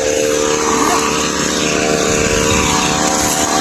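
A farm water pump engine runs close by with a loud, steady mechanical drone that holds unbroken throughout.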